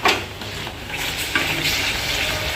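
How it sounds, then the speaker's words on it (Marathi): Thick mango pulp is stirred in a steel wok, with continuous scraping and bubbling sizzle close up, punctuated by metallic strokes of the spoon. "ती स्टीलची कढाई असल्यामुळे मला सारखं असं हलवावं लागतंय नाहीतर ते खाली लागू शकतं"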